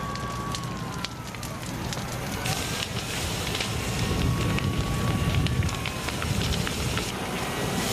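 A destructive wildfire burning near Harmony Grove, close to San Diego, gives a dense, steady roar of crackling flames mixed with wind noise, loud and continuous throughout.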